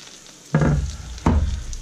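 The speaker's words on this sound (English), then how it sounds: "we'll just move that around, move the garlic around, move that ginger around in the butter." Julienned ginger and garlic sizzle in hot butter in a pan while searing scallops, with two sharp bursts of frying as the aromatics are stirred and moved around, close and crackling.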